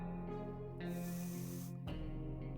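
A radioactive can of bug spray in a post-apocalyptic video game lets out one steady hiss lasting about a second. It sits over constant droning game music, with no voices.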